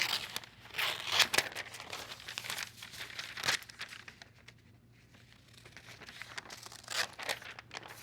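Paper sewing pattern being cut, with crinkling, rustling and tearing-like paper sounds in bursts, close and moderately loud, easing off in the middle before picking up again.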